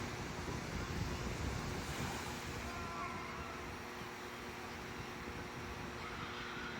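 Pacific Ocean surf near Santa Cruz washing in as a steady, rushing roar, with wind buffeting the microphone throughout.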